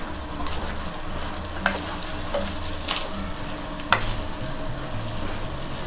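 Chicken fry sizzling in a pan while being stirred, with a steady frying hiss broken by several sharp scrapes and clicks of a spoon against the pan, close up and with no voices.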